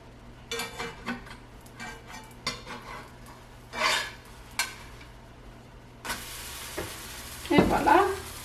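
Crêpes cook in a frying pan with a soft sizzle, broken by scattered clinks and scrapes of a utensil against the pan, and a louder scrape near the end.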